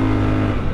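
Triumph Scrambler 1200XE motorcycle engine on sand, a brief loud burst of close, low, throbbing engine roar as it accelerates.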